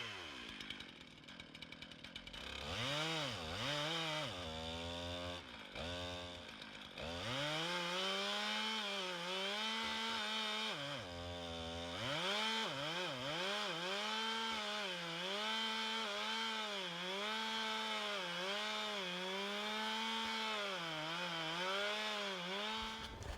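A chainsaw running a chain sharpened with a Stihl sharpener cuts through wood for a long stretch. The engine bogs and rises repeatedly as the cut pinches the bar, loud and close, with no talk.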